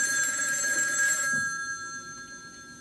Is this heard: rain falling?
no